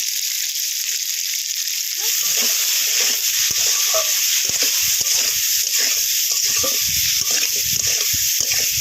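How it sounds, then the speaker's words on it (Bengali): Tomatoes and onions fry in a pan for a shrimp dish, giving a loud, continuous hissing sizzle up close with irregular stirring clicks running through it. "টমেটো আর পেঁয়াজ 2 মিনিট দজে নিন"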